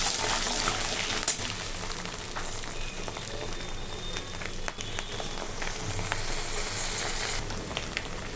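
Five-spice seeds and green chilies fry in fish oil, giving a steady crackling sizzle like light rain, with occasional sharper pops and spatters, close and continuous throughout.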